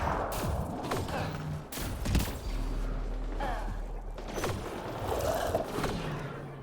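Video game gunfire from Mass Effect Andromeda multiplayer, with repeated bursts and sharp shots crackling over a dense, busy combat soundscape that runs the whole time with no pause.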